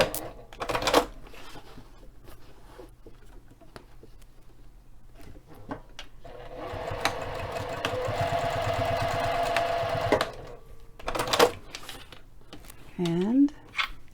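A sewing machine stitches a double line along a bag seam, a steady whirring run of about three seconds in the middle, with brief clicks and quiet handling before and after.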